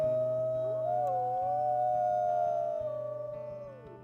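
Oakley, a wolf in a video game, lets out one long, clear, sustained howl that rises and slowly falls away, heard alone over a quiet game backdrop.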